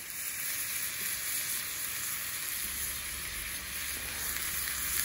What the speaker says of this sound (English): We added butter and brown sugar, vanilla extract, and the rhubarb to the pan. Just cooking it until the sugar dissolves.